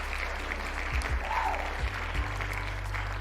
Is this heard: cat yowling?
no